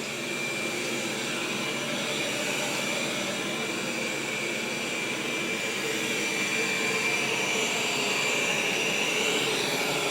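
A Roborock S7 robot vacuum runs on carpet with its suction boosted, giving a steady, loud whirring roar that holds evenly throughout with no talking.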